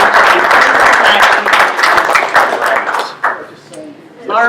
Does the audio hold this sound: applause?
yes